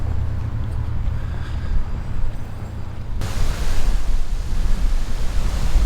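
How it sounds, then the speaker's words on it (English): Surf at Cabrillo Beach in San Pedro, late afternoon and out of season, makes a constant rushing wash with wind noise. The roar grows fuller and brighter partway through and stays loud, with no voices. "This is the historic Cabrillo Beach."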